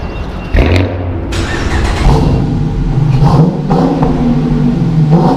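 A 2016 Camaro SS with the 6.2 V8 revs nearby, its engine surging up with a sharp blip after a low idle, then settling into a throaty, rising and falling rumble.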